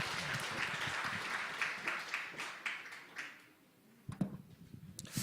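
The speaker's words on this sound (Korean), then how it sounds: "박수로 환영하겠습니다." A church gathering at an evangelism camp forum welcomes a pastor with applause, a moderate burst of clapping that thins out and dies away, followed by a few scattered handling knocks and taps.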